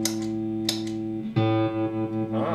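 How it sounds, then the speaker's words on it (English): Electric guitar played through a BluGuitar Blubox with its tremolo effect switched on, sounding sustained chords with a wavering, pulsing volume and a couple of sharp attacks, loud and close with no talking. "Let me try if the tremolo works."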